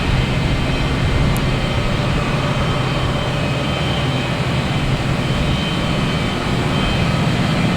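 A Boeing 737-900 jet airliner rolls for takeoff at Boston Logan, its engines a steady, broad roar held at a constant loud level throughout, with no talk over it.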